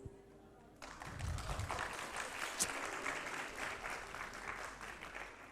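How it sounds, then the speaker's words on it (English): A conference audience breaks into a round of applause, dense steady clapping from a medium-sized room that starts abruptly and holds at an even level, heard from some distance. "Let's now check the level of our energy by the sound of round of applause"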